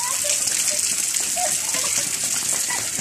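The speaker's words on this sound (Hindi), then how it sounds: "आज बारिश हो रही है जी बहुत ज्यादा हमारे यहाँ" Heavy rain pours down continuously, a dense, loud gushing wash of water close by with no breaks.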